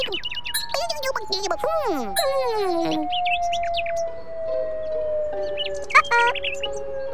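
Cartoon birds chirp and tweet in bright, swooping whistles, a lively cluster early on, then a long gliding tone and a few short calls, loud and close.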